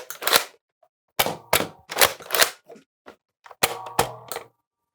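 NERF Elite 2.0 Flip 16 foam dart blaster firing in a rapid series of sharp, loud mechanical cracks and clatters, grouped in clusters with short pauses between, close to the listener and with no talk.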